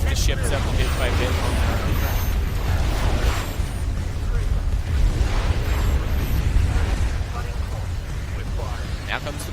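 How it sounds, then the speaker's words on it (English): Weapon barrages in the space-combat game VEGA Conflict pound the ships in a dense, continuous wash of booming impacts and bursts, with a voice running over the battle noise throughout. "Now comes the barrage that destroys the carrier shield"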